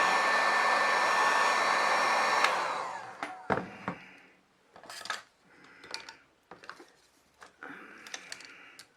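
A heat tool blows a steady whooshing roar while warming Cricut vinyl lettering for a keepsake craft, then cuts off, followed by scattered light taps and handling clatter on a tabletop.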